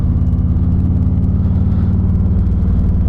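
A Harley-Davidson cruiser motorcycle engine runs while riding in first gear, a loud, deep, steady throbbing rumble that stays constant with no talking.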